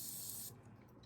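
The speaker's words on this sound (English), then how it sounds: "I'm going to spray it with some Morphe," A Morphe Continuous Setting Mist bottle gives one close, steady spray of fine mist during a makeup routine, lasting about half a second and then cutting off into quiet room tone.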